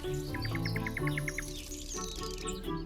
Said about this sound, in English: Now, at dawn and in the evening, melodic concerts of nightingales and frogs resound.